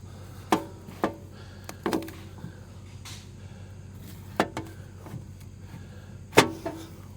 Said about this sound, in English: Let's cut this one open. Oh, it cuts like butter.